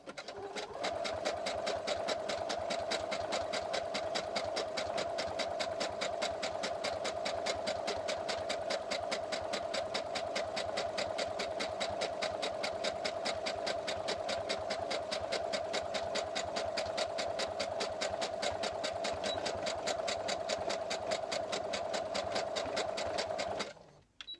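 Sewing machine runs a straight stitch over fabric scraps in a fast, even mechanical clatter, steady and close for the whole stretch before stopping abruptly.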